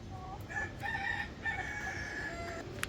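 A rooster crows once nearby among silkie chickens, a drawn-out call rising and holding, with soft clucking and a steady low background hum.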